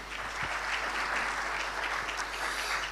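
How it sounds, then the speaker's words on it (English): A conference audience at a hydrogen industry event applauds steadily, a dense, even clapping that holds at moderate level throughout without any speech. "Please join me in starting the conference with a round of applause"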